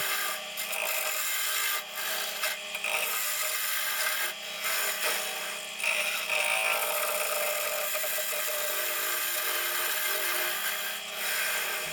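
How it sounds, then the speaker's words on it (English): A bottom bowl gouge scrapes and rasps steadily across a pecan wood bowl being rough-turned on a lathe, with a continuous, close rubbing hiss broken by brief dips. "We now switch to the bottom bowl gouge, a gouge that is meant for the bottom of the bowl."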